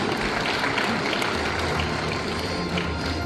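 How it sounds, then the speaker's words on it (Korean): Audience applause for public agency heads at a Sejong City vacant-shop fair, a steady, dense wash of clapping that carries on evenly throughout with no voice over it. "박수 부탁드립니다"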